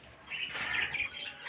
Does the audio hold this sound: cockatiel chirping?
yes